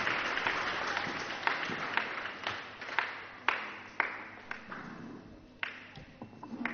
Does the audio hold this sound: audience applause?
yes